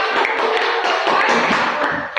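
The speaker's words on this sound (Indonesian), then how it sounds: "tepuk tangan untuk kelompok kita" A classroom audience claps for a presenting group, a brisk, fairly close patter of several hands that holds steady for about two seconds, with some sharper individual claps mixed in.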